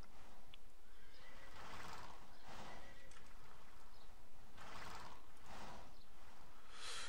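A horse in a video game neighs and whinnies in several repeated bursts roughly a second apart over a steady background hum, clear and moderately loud.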